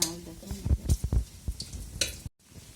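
Washed napa greens dropped into a pan of frying chicken, giving a burst of sizzle with soft stirring knocks and scrapes, close and fairly quiet, ending in a brief moment of silence.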